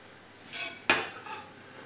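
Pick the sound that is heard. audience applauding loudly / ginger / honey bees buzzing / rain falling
ginger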